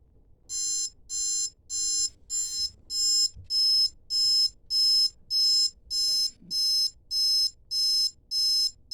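Alarm clock ringing in a steady repeating pattern of about fourteen evenly spaced high-pitched buzzing pulses, loud and close, with faint low background noise and no talk.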